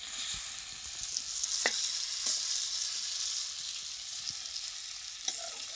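Pumpkin cooking in a pan with jaggery, stirred with a spoon: a steady bright sizzle throughout, with a few scattered scrapes and knocks of the spoon against the pan, no voices.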